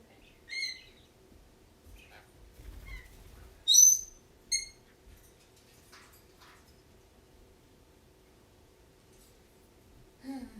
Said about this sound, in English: Rico's screaming just because you can scream